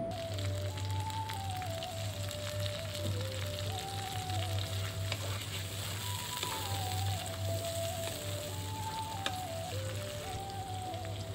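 A ginger, garlic and cumin paste sizzles in a frying pan, a soft, continuous hiss and crackle with a low steady hum beneath, no talking.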